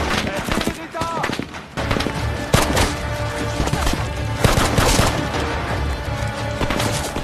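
Gunfire in an action film, sharp repeated shots and crashes among a dense score, with a narrator speaking over the scene.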